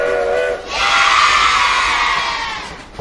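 A cartoon train whistle from a children's numbers song blows one long, loud, breathy tone lasting a few seconds, following a brief higher toot at the start.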